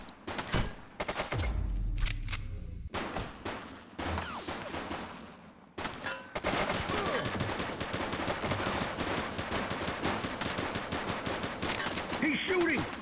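Rapid bursts of gunfire from an enemy in the police game The Precinct, loud and close, with dense automatic shots filling most of the stretch and voices speaking briefly between volleys.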